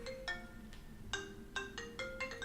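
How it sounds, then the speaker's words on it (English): A cell phone rings with a repeating electronic melody of bright tonal chirps, heard faintly in a quiet room at a desk during an online Go game, with no talk. "oh, my phone is going off and I need to"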